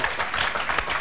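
A studio audience claps on an Australian morning TV show during a boy band interview, a brief dense burst of applause at close, fairly loud level.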